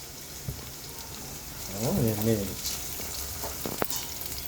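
Onions and sliced chillies frying in a pan for a prawn dopiaza, a steady sizzle with stirring scrapes and a louder burst of crackle midway, brief soft voice in the background.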